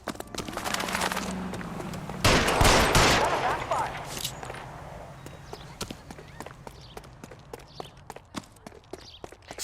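Gunshots in L.A. Noire: a loud burst of rapid fire early, then a long run of sharp clicks and thuds that sound like quick footsteps, with occasional voices underneath.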